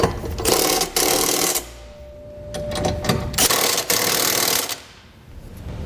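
Flange nuts on the bolts of a Curt trailer hitch on a 2015 Subaru Legacy are run down with a power tool in several loud whirring bursts, broken by brief pauses and metallic clicks.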